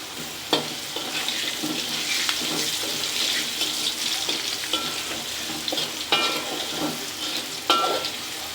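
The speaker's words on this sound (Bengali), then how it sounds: "আমার আলু ভাজা হয়ে গেছে" Potatoes fry with turmeric and salt in a pan, a continuous watery sizzle with scattered sharp clinks and scrapes of stirring throughout.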